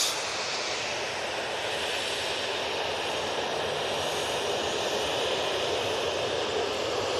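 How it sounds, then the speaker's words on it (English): Steady broadband jet roar from a Ryanair Boeing 737-800 taking off at Manchester Airport, sustained and even throughout at middle distance with no talk. "Ryanair's off to Bratislava, 737-800."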